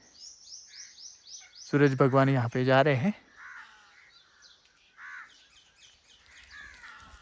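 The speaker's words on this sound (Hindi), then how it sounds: "अभी यहाँ पे पक्षियों की आवाज़ें आ रही है।" Crows caw repeatedly in a quiet forest, several harsh calls in a burst with smaller birds chirping around them, while someone speaks calmly over the birdsong.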